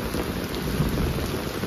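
Heavy rain pours down steadily as a dense, loud, unbroken wash of noise with a low rumble beneath it, no voices.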